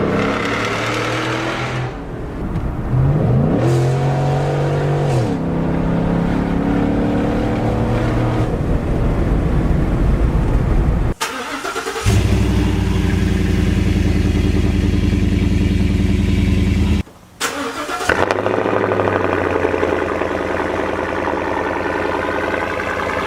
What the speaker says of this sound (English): It just introduces this new level of rasp, especially at the top end, in between shifts or whatever, wide open throttle.